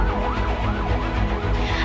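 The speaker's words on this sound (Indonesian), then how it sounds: "Yang terdengar hanya suara sirine ambulans siang dan malam." An ambulance siren wails continuously with a smooth rising and falling tone in the city of Madiun, loud and steady over low traffic rumble, with no voices.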